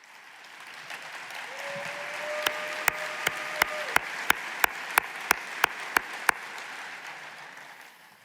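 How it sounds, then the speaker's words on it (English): A fundraising event audience at an ATIME Shas-a-Thon applauds in a steady murmuring wash, while a run of sharp, evenly spaced claps stands out in the middle before it fades. A brief sustained tone sounds early on. "They deserve a round of applause, they do."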